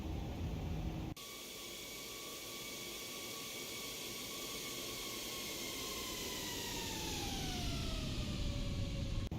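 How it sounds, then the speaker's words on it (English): Airbus A330neo engines in the X-Plane 12 flight simulator, a loud steady roar and high whine that holds throughout, with one tone slowly gliding downward near the end. "Engine sounds are to the max, Caleb."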